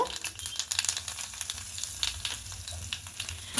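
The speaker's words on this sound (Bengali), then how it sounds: "তেলটা গরম হয়ে গেছে এবার এখানে কালো জিরে ফোড়নো দেব" Nigella seeds and asafoetida sizzle in hot oil in a small pan, a steady close crackle with a dense spitting hiss that runs the whole time and never lets up.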